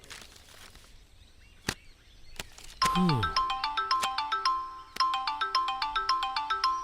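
A mobile phone ringtone rings loudly and clearly in an indoor office scene, with a repeating melodic pattern of bright electronic tones. A sweeping chime opens it, and the pattern continues steadily with no one speaking over it.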